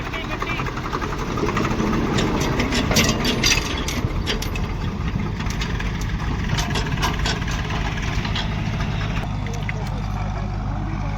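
An 855 tractor idles with a continuous heavy, low throbbing close by at a village clean-up site, with faint voices mixed in.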